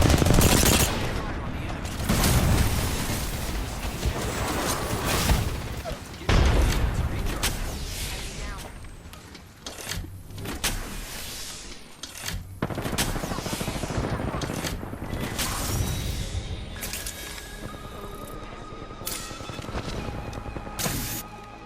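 Gunfire from the video game Apex Legends rattles in rapid bursts, with loud sharp shots and a heavy boom near the start. Dense battle noise continues throughout with short gaps between volleys.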